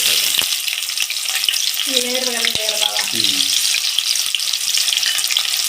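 Sliced onion and dried red chillies fry in oil for a tempering, a steady loud sizzle with scattered clinks of a spoon; a voice briefly sounds partway through.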